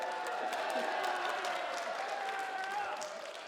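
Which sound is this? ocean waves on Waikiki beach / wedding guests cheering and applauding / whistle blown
wedding guests cheering and applauding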